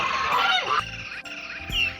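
Cartoon ducks on a small village duck farm quack in a quick run of loud, nasal honking calls over two seconds, close and bright, with no talking.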